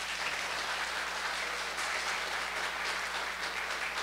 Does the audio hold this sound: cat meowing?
no